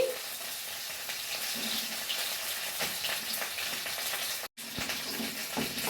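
Water poured into a pan of browned spice masala for a Bengali bhola fish curry, giving a steady broadband sizzle and gush that runs throughout with one brief break near the end.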